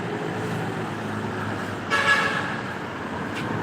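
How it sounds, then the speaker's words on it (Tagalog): Road traffic heard from an overpass above a busy junction packed with private vehicles. A steady engine rumble carries one short, loud car horn toot and a fainter second beep near the end. "Wala, ang traffic oh."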